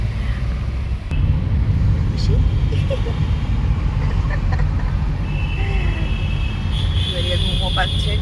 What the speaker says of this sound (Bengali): মারাত্মক ট্রাফিক জ্যাম।